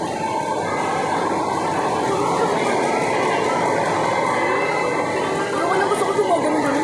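A ride-on mall train runs steadily at close range, a continuous rumbling clatter that holds its level throughout, with crowd noise and people talking beneath it.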